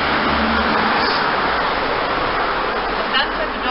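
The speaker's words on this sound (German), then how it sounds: "die Züge fahren drüber weg, die Autos fahren durch" Cars rolling through the Friedenstunnel with trains passing overhead, heard as a loud, steady, hollow rush of roadway noise that fills the tunnel from start to finish.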